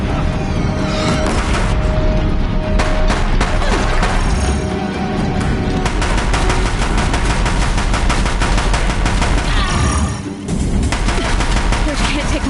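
Sustained heavy weapons fire in Horizon Zero Dawn, aimed at a bridge: dense rapid bursts of gunshots and crashing impacts pound on without a break, loud and close, with a brief lull near the end before the barrage resumes.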